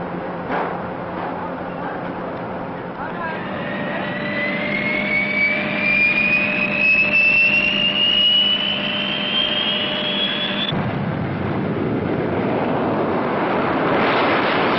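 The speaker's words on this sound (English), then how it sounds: "Also part of this massive strike force is the B-58." B-58 jet bomber engines roar loudly and steadily, a rising whine climbing in pitch over a broad rushing rumble before cutting to a wider blast of engine noise.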